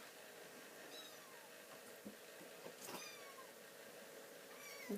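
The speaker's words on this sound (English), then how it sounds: "Oh, shush kitties. They're busy playing." Several cats meow faintly over the steady hum of a Silhouette Mint stamp machine printing, their calls rising and falling at intervals.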